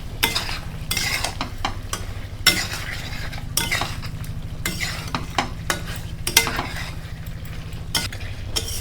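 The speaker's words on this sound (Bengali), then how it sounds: "মাংসটা দিয়ে ভালোভাবে নাড়িয়ে ঢাকা দিয়ে রাখতে হবে" Mutton is stirred and fried in a thick spiced masala in a Bengali home kitchen. A spoon scrapes and clinks against the pot in repeated bursts over a constant close sizzle.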